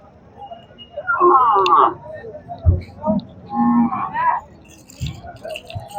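A bull lows twice nearby at a cattle market, deep drawn-out calls separated by a short pause, with faint thumps and background noise.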